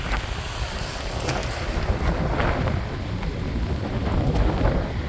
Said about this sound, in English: we're going to fight wind all the way down there